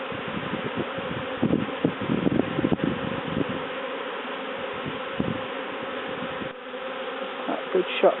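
A swarm of honey bees moves up a sheet into a top bar hive, giving a steady close buzzing drone with scattered louder passes of individual bees near the listener.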